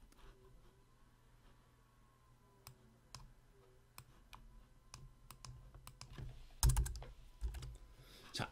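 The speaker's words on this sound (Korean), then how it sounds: "요거는 그냥 우리가 한번 타이핑을 한번 좀 해봤으면 좋겠네요" Computer keyboard typing during a Korean artificial neural network practice lesson: scattered key clicks, sparse at first and growing denser and louder toward the end, close up, with no talking.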